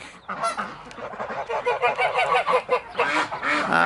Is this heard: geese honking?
yes